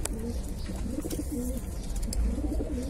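Pet pigeons cooing at close range, with soft repeated throaty coos in an irregular rhythm over low background noise and no speech.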